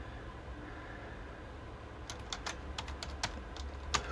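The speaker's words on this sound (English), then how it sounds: "I'll type our farm name in, and I'm just going to type a random address." Someone types on a computer keyboard, a quick patter of light key clicks that begins after a quiet stretch and sits over a low steady room hum, with no speech.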